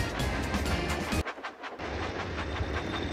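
A train in a mobile video game runs along its tracks with a rumbling, clattering roll and rhythmic clicks, briefly dropping to a thinner hiss before the steady rumble returns.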